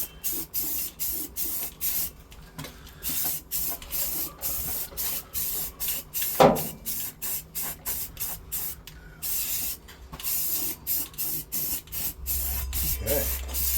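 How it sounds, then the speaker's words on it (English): Repeated short bursts of aerosol spray primer hissing in a quick on-off rhythm on a 1997 Ford F250 Powerstroke diesel, close and fairly loud, with a can rattling and handling noises between bursts. "Spray some prime on there."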